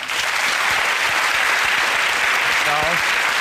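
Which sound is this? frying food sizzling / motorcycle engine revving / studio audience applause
studio audience applause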